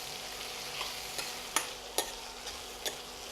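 Tomatoes and onions fry softly in a pan for a Marwari potato curry, with a faint steady sizzle broken by several sharp scrapes of a spoon stirring, close up and without talk.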